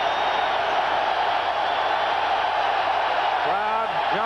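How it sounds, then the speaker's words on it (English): A dense, roaring crowd at a 1991 college football game between Alabama and Tennessee fills the stadium with a sustained, loud wash of noise, and a voice speaks briefly near the end. "Crowd jumping into it."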